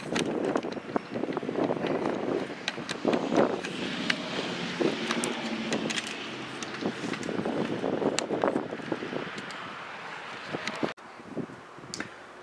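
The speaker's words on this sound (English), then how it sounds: "the wind is going 4 to 8 miles an hour and switching" Wind blowing at about 4 to 8 miles an hour outdoors at a 50-yard airgun range, rushing and buffeting the microphone in uneven gusts, with faint rustling and a brief drop near the end.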